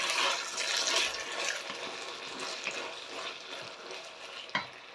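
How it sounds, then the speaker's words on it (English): A spoon stirs a pot of simmering beef stew with blended tomato, giving a steady wet sloshing and bubbling texture with a small clink near the end. "So just a quick stir."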